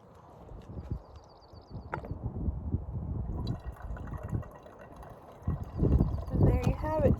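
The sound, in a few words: filtered water pouring from Sawyer Mini filter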